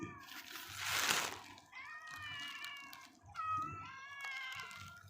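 Several stray cats meow in drawn-out, rising calls, two clear bursts near the middle and end, over faint background rustle and a short splashy noise early on, moderately close.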